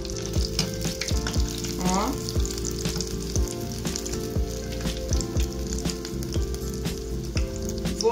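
Breaded chicken tulips (drumettes) fry in hot oil with a steady, loud, crackling sizzle that runs throughout, with occasional clinks of a utensil and a brief spoken word.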